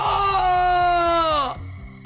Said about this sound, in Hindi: उसका भयानक रूप देखकर विवेक डर गया और चिल्ला उठा।